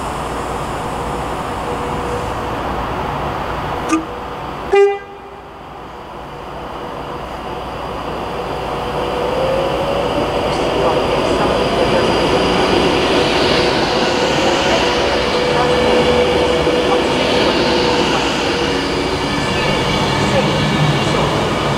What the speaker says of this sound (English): Please stand back from the platform edge until the train has stopped.